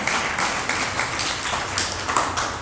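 Audience applause at a Hindi religious discourse, a dense steady wash of clapping hands sustained throughout with no voice over it.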